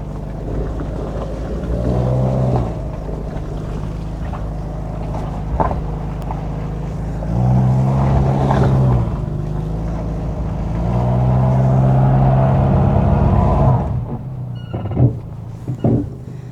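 Subaru Forester climbing a rutted mud hill, its engine droning low and steady and rising in strained revving surges, with wind buffeting the microphone and a few knocks near the end.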